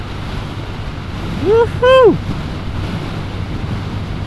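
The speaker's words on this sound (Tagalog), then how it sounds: "Medyo malakas yung hangin dito." Strong wind roars steadily into the microphone during a motorcycle ride along the coastal road in Zambales, Philippines. Midway a rider lets out a brief excited whoop over the rush.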